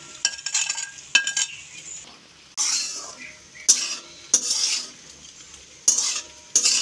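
Fried fruits being stirred into cooking rice for a Janmashtami bhog: loud, repeated scraping strokes of a spoon in the pot over a steady sizzle, with occasional utensil clinks.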